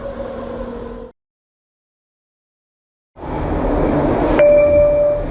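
Vancouver SkyTrain Expo Line train heard from inside the car: a steady rumble before a gap of silence, then rolling noise returns louder with a sustained high tone appearing near the end.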